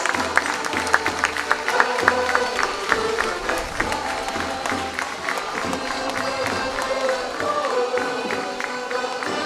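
Crowd at the opening ceremony of the Barcelos folklore festival applauds a visiting folk group from Montemor-o-Velho, Coimbra: sustained, lively clapping with some cheering, fairly close and loud, easing off slightly toward the end.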